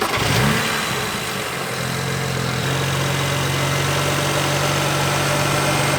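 A budget BMW sports car with a factory forged engine idles steadily after a brief rev at the start, a low, even hum close by with no voices.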